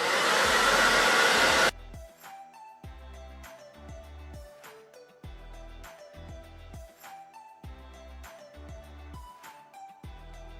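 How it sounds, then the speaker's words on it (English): A hair dryer blows loud and steady on natural hair for under two seconds, then cuts off abruptly, leaving quieter, rhythmic background sounds for the rest of the stretch. "and I'm gonna blow dry."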